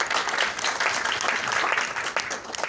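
An audience at a corporate retail company event in Lucknow claps, steady dense applause that fills the whole stretch at a strong level.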